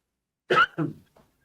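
A single short, dry cough, close and clear, with a fainter trailing catch of breath, against silence.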